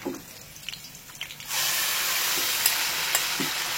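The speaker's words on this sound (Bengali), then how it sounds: "চিকেনটাকে ভালো করে ফ্রাই করবো" Marinated chicken drops into a pan of fried garlic and green chillies. A quiet moment gives way to a sudden loud, continuous sizzle that holds steady to the end.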